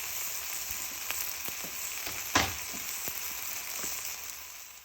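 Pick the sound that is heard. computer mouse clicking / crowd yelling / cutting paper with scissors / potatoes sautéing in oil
potatoes sautéing in oil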